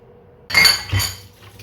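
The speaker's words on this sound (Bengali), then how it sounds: "এই চা খেয়েছি, কাপগুলো ধুয়ে নিচ্ছি।" Tea cups being washed at a home sink, a couple of sharp ceramic clinks as cups knock together, close and bright, with a short ringing decay and quiet surroundings.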